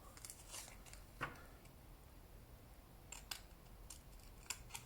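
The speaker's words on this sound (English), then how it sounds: "Trim up to the line, cut out the little triangle," Scissors snip cardstock or paper while trimming to a line and cutting out a small triangle for a jewelry gift box, making scattered quiet crisp cuts, a few clustered near the end, against a faint background.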